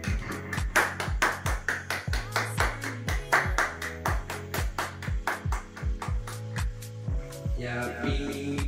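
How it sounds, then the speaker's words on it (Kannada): People clap steadily at a simple home birthday celebration as the cake is cut, the claps sharp and rhythmic throughout, with voices in the background. "ಚಪ್ಪಾಳೆ ಹೊಡೆಯುವುದರ ಮುಖಾಂತರ ಜನಗಳು ಸಹಕರಿಸಬೇಕಾಗಿ ವಿನಂತಿ"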